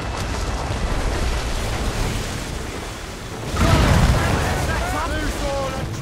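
Ship cannons fire during a naval battle in the video game Assassin's Creed Rogue, a heavy booming blast swelling midway over constant rumbling sea and combat noise.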